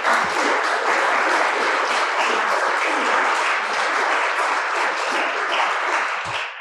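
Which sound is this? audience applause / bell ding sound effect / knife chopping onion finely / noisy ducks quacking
audience applause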